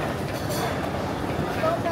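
An MRT train at Taipei Main Station rumbles steadily with a broad, continuous rail noise, while people talk over it in a busy station.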